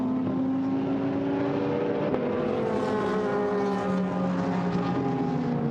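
A Lamborghini GT race car at Paul Ricard in a 2019 Blancpain GT Sports Club race: a loud, sustained engine howl whose pitch slides gradually downward as the car sweeps past, heard without talk.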